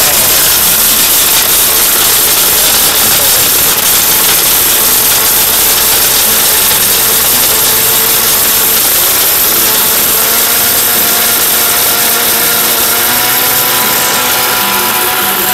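A Maharaja blender machine grinds hard, stone-like turmeric in a steady, loud motor whine with gritty rattling throughout, no voices.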